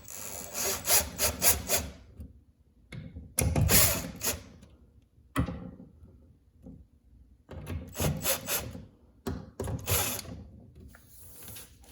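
An impact driver backs screws out of cabinet door hinges in several short, close bursts of rapid rattling hammering, separated by brief pauses and quiet handling noise.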